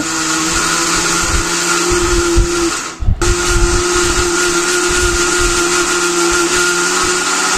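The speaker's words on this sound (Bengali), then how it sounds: "তারপর আমি একটু ব্লেন্ডার করে নিব ব্লেন্ডারে গুঁড়ো করে নিয়েছি" A blender grinding soaked rice into powder whirs loudly and steadily with a high-pitched motor whine, briefly stopping once before starting again and running on continuously.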